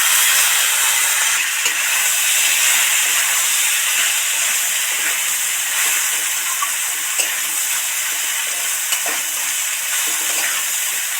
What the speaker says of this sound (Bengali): এবার ঢেঁড়স, আলু আর টমেটোটাই তেলের মধ্যে উঠিয়ে দেব।